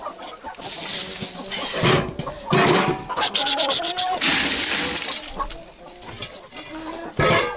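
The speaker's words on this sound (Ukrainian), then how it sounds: "Ці молоді півні такі безтолкові" Young roosters and hens in a farmyard give bursts of clucking and squawks with flapping scuffles, while a person talks and shoos them.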